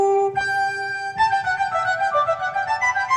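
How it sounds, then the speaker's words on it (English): Two synthesized flute lines from a multitrack tape, heard as pure sustained tones, one entering alone and a second joining to weave a melody over a soft pulsing backing, no talking. "There are 2 flutes."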